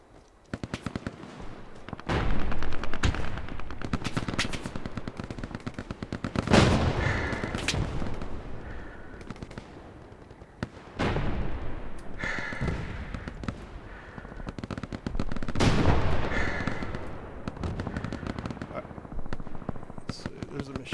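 Machine gun fire in the World War II shooter Hell Let Loose, in repeated bursts of rapid shots with booming blasts between them, loud and near, while players talk over the battle noise.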